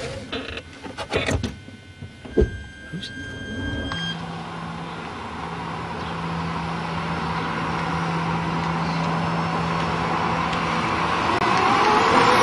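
Converted electric car driving in second gear on a first trial run: a steady interior drone and road rumble building gradually in loudness, with a sustained low motor tone and a few clunks and rattles at the start.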